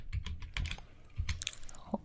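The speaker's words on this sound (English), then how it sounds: "I will begin by typing the select keyword." Computer keyboard being typed on, a quick run of separate clacky keystrokes in irregular bursts, close and fairly quiet.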